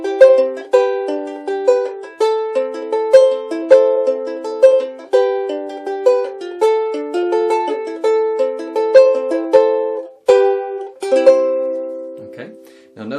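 A ukulele plays the verse and chorus of a song as a steady fingerpicked pattern of bright plucked notes. It is close and clear with no voice, and it ends on a ringing chord.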